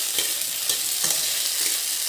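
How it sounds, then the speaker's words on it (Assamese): Potatoes for curry fry in a pan, giving a steady close hissing sizzle with a few soft stirring scrapes; no one speaks. "ইফালে মই তৰকাৰীৰ আলু ফ্ৰাই কৰি আছোঁ"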